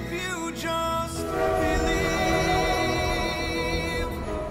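A train from The Polar Express sounds its horn, a long, loud, sustained chord held throughout over the rumble of rolling wheels.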